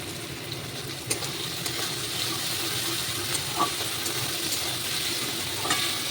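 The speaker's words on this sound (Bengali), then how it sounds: "এবারে সুন্দর করে নেড়ে নিচ্ছি। একদম কম আঁচে আমি রান্না করছি।" Ghima saag stirred in a pan over low heat, with a soft continuous sizzle and steady hiss, a few faint scraping stirs breaking through, close and alone.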